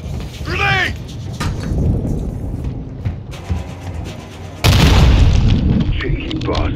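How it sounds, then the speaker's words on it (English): Grenade blast in Call of Duty Modern Warfare 2 during an indoor firefight: a heavy, close explosion erupts midway after shouting and gunfire, leaving a loud rumbling wash behind it. "Grenade!"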